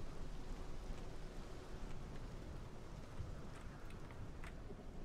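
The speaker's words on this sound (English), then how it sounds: "It's rain." Steady rain falls in the fantasy role-playing game Morrowind, a faint, even hiss with a few scattered soft drop ticks and no talking.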